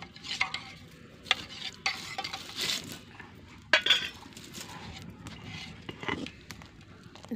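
A spoon stirs custard mixture in a pot, scraping and clinking steadily against the metal with faint sizzling underneath, close and moderately quiet with no talking.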